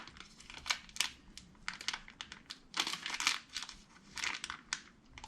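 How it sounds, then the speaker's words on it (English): A plastic bag is torn open in a garage during steering linkage work on a 1970 Chevelle, with bursts of crinkling and ripping in irregular clusters, close and fairly quiet, no voices. "How long does it take a man to rip a plastic bag?"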